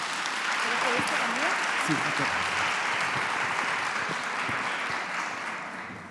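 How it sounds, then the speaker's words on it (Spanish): Audience at a tarot congress in Madrid applauds steadily and loudly throughout, the dense clapping tapering slightly at the end while someone speaks briefly over it. "Un fuerte aplauso"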